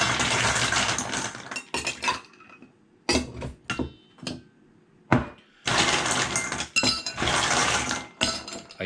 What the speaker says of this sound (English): Ice in a Collins glass.